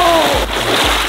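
Heavy splash of a person thrown into a swimming pool, a loud burst of churning water with sloshing and splatter continuing for about a second, with voices briefly audible.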